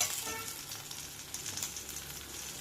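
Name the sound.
ginger garlic paste frying with onions and curry leaves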